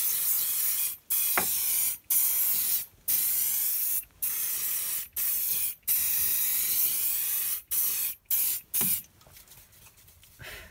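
VSM wax release agent sprayed from an aerosol can onto a silicone mold: a run of about ten short, loud hissing bursts with brief gaps between them, getting shorter toward the end, and no voices.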